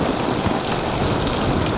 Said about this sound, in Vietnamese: Mưa mà tối hù trời đất luôn.